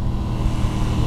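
2021 Aprilia RS660 middleweight sport motorcycle engine, set to a more aggressive throttle response, giving a loud, close, steady engine roar that holds even for about a second without talk.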